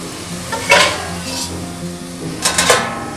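Vegetable stems, mustard-green stalks for a Bengali chochchori, hitting a hot pan with bright bursts of sizzling and stirring clatter, two louder splashes of frying noise over a steady low kitchen hum, no talking.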